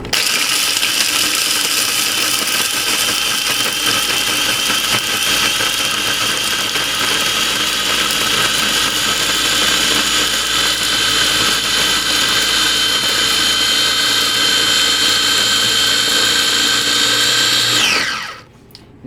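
Small KitchenAid blender grinding leftover bones into bone meal: a loud, steady, high-pitched whirring grind runs unbroken for about eighteen seconds, then winds down and cuts off, with no talking.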